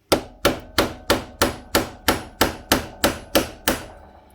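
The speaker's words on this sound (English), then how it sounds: "I think it needs a tap. Get me hammer." A hammer taps a shock into place on a Monkey bike, twelve evenly spaced sharp metallic knocks at a steady rhythm, close and distinct with no talking.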